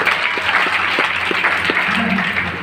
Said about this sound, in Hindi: तो खुश हो जाइए और ताली बजाइए